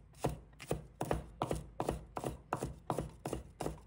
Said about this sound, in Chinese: 把葱白切成小粒。